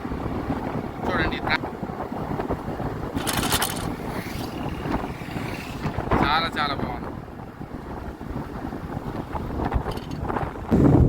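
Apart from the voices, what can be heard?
strong wind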